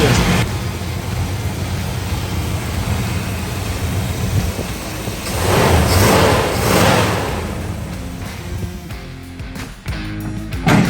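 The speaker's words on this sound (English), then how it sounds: "Just listen to this engine a little bit" An original 1974 Plymouth Duster engine runs at idle with its hood up, a steady low rumble that swells briefly midway, then gives way to scattered handling noises near the end.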